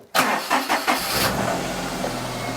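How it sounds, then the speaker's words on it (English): A Daihatsu Charade L251 engine being started after an alternator belt replacement: a few quick starter cranks, then the engine catches and settles into a steady, loud, close idle. "And start the engine."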